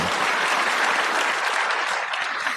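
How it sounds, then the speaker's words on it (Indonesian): An audience claps for a moderator at a lecture on character education, a dense, continuous applause from a crowd that stays loud and even throughout before tapering slightly at the end. "kita tepuk tanganlah kepada Pak Bonijan."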